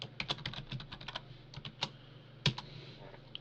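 Quick bursts of keystrokes on a computer keyboard, close and fairly soft, with a flurry of clicks, a brief pause, then a few more taps and one louder key strike.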